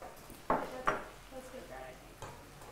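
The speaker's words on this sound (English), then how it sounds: "Orla, you're going to stir that around." Spoon stirring sugar and lime juice in a pan, with two distinct clinks followed by softer scraping at a low level.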